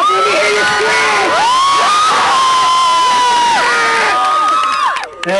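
A live-show audience cheers, screams and whoops loudly and continuously, with shrill voices rising and falling throughout and a brief dip near the end.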